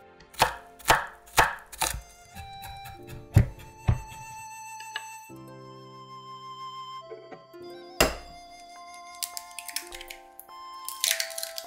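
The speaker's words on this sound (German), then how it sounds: "Lauchzwiebeln in Ringe schneiden. Weiße Stiele und grüne Blätter separat stellen. Knoblauchzehen fein hacken." Spring onions and garlic being chopped with a knife on a cutting board, a close series of sharp, evenly spaced knife thunks, followed by quieter clinks and kitchen handling sounds.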